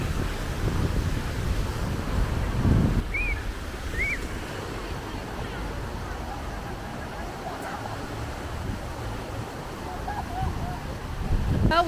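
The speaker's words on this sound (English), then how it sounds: "The wind has picked up a bit" Wind buffets the microphone on Boracay's White Beach, a rough, loud rumble with gusts that swell at the start and end, and faint surf and distant sounds behind it.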